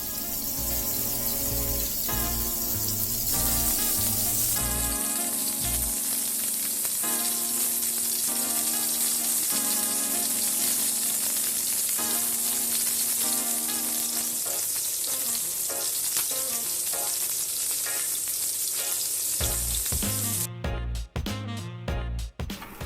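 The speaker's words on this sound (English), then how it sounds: "let the beef patty to cook on the hot pan for approximately 2 to 3 minutes on each side" A beef burger patty sizzles on a hot pan in a constant loud hiss lasting throughout, with steady background tones underneath and a few abrupt breaks near the end; no one talks.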